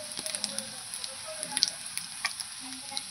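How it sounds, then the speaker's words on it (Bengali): Cumin seeds and a dried red chili sizzle in hot oil as a tempering for a light red pomfret curry with potato and eggplant. The frying is steady and close, with small crackles and pops and no voices. "দিয়ে ফোড়নটা আমি এর মধ্যেই করে নিচ্ছি"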